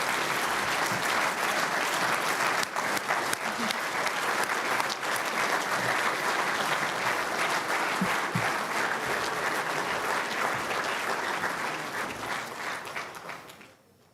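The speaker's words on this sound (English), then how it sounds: "Let's give one more round of applause to everyone," Sustained, dense applause fills the room as an audience claps together at a cattle marketing hall of fame induction ceremony, loud and steady before fading out at the end.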